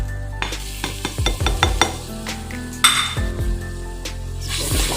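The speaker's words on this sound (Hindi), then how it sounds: "अच्छी तरह से मिक्स करें" Spices, black pepper and coriander powder among them, are stirred into a sizzling cooking pot, a metal spoon scraping and clinking against the pan in quick repeated strokes, close and alone.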